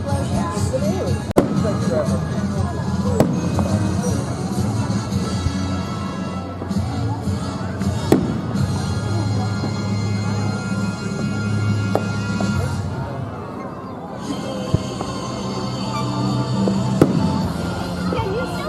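Fourth of July fireworks at Robertson Park in Livermore, California, bursting with sharp cracks and booms at irregular intervals over a continuous crackle and crowd murmur, with people talking nearby.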